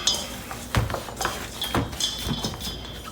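Meatloaf ingredients being mixed in a bowl: a few dull knocks and clinks of a utensil against the bowl over soft squishing and rubbing, close by and brief.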